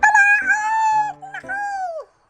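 A rooster crows loudly and close by, two drawn-out, strained calls with a short break between them.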